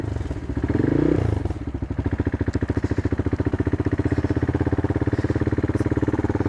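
A small CCM Flat Tracker motorcycle idles and then pulls away, its single-cylinder engine throbbing in a fast, steady pulse with a brief louder rev at the start, loud and close with no talking.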